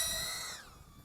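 URUAV UR85HD cinewhoop drone motors spool up in a sharp punch: a loud, high-pitched whine that falls in pitch and eases off within about a second.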